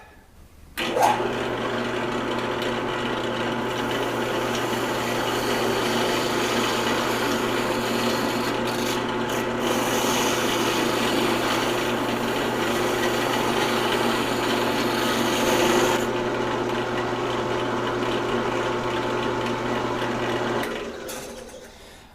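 A drill bores a large-diameter hole into a wooden star backdrop piece, a steady grinding drone held for about twenty seconds, close and even, with no talking.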